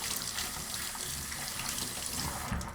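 Water runs steadily from a tap as hands are rinsed at a sink, a continuous splashing flow lasting the whole stretch at moderate, close level with no talking.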